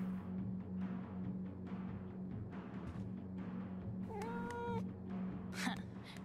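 Cats in the video game Life is Strange: True Colors give two clear meows over a steady low hum and background noise, one a long wavering cry and the other shorter.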